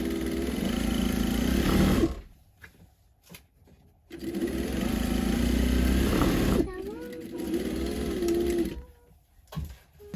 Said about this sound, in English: So I'm just going to sew the 2 sides, so here, and I'll do the same thing for the lining fabric as well.